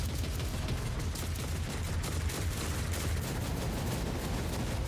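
Turret guns blaze in a Warhammer 40K video game battle, a dense, continuous barrage of rapid gunfire with booming low rumble, loud and unbroken throughout with no pauses between shots.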